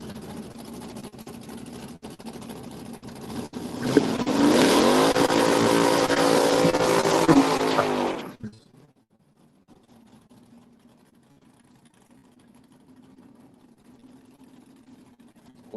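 A 1977 Camaro Z28 drag car roars down the strip at a live drag race, loud engine blasting for several seconds before cutting off abruptly, leaving a faint distant idle.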